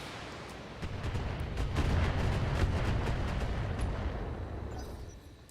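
Mech weapons fire in the BattleTech video game as a dense, rumbling barrage of booming blasts that swells and then fades away over several seconds.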